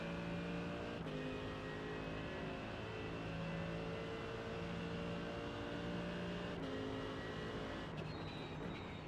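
Race car engines in a sim racing game, including a Porsche diving for the pits, hold a steady high whine with small gear-shift breaks, continuous and fairly faint.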